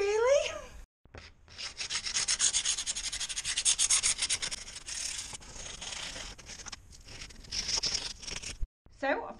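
Sanding a window frame by hand, close up, with continuous rough rubbing strokes in a fairly steady back-and-forth rhythm, briefly pausing a few times.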